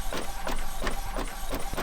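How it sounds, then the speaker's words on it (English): An EcoTank sublimation printer running a business-card print job, its print head shuttling back and forth in a steady repeating rhythm of whirring passes, close and clear with no talking. "So here comes the print."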